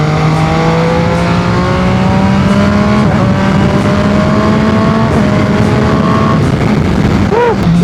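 MV Agusta Superveloce 800 sport motorcycle engine running loudly and close, with a steady droning idle that slowly rises in pitch and a brief blip near the end.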